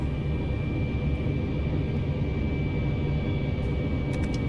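A TGV Duplex high-speed train accelerating, heard as a steady, loud low rumble with a constant high whine running through it and brief faint ticks near the end.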